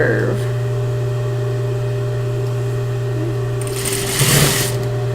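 A sewing machine runs steadily, stitching along the side seam and around a curve of a cloth purse. It gives a loud, even mechanical whir with a brief brighter rattle near the end.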